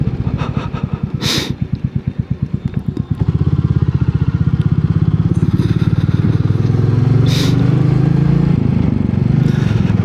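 A Royal Enfield Meteor 350 motorcycle ridden near Bonn, its single-cylinder engine thumping in a loud, close pulsing rhythm that smooths into a steady drone as it pulls away, with some wind noise.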